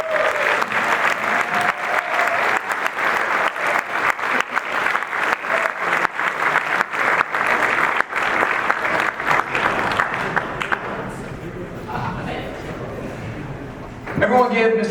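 Applause at a fraternity's hundred-year gala for a man being honored on his birthday, a loud sustained round of clapping from a roomful of guests that fades after about ten seconds, giving way to quieter room sound and a voice.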